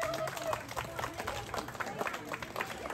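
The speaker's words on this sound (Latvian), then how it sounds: "Nu, tad vēlreiz skaļus aplausus visiem dalībniekiem, gan trīnavāciem, gan modes skatus dalībniekiem." Loud applause and clapping from a crowd at an outdoor Restoration of Independence Day celebration in Ogre, Latvia, honouring participants of a fashion show, a dense steady patter sustained throughout with voices mixed in.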